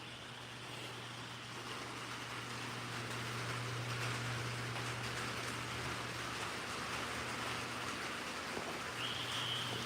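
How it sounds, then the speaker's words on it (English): Texas rain hisses steadily outdoors beside a 1986 Chevrolet Silverado C10 pickup, with a faint passing car and road noise in the background and no talking. "Well, I think Texas sent me the rain"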